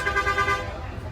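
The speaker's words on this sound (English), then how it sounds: "you can hear the noise around me of all the buses in the bus station" Bus horns toot in a quick repeated pattern over a low engine rumble at a busy bus station in Guatemala, close, fading into steady idling noise.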